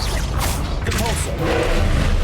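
A Depulso spell cast in Hogwarts Legacy: a forceful magical whoosh and burst over a steady low rumble, with brief rising tonal shimmers in the middle.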